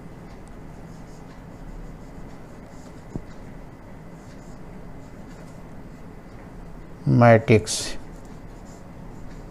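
Writing on a board during a maths lesson: a brief cluster of scratchy, tapping strokes close by, heard after a stretch of quiet with someone speaking.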